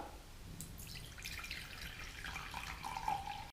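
A cup of water is poured into a container while testing for water in paramotor fuel: a short trickling, splashing pour that rises toward the end, with no talk.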